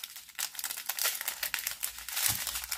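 Plastic diamond painting bead packets being folded and creased by hand, giving steady close crinkling and rustling with scattered sharper crackles and no voice.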